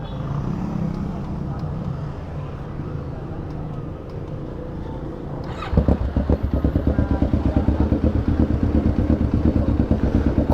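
A Kawasaki Ninja 650 fitted with a Villain aftermarket exhaust starts cold after several seconds of quiet background, then settles into a loud, close, throbbing idle with a steady rapid pulse.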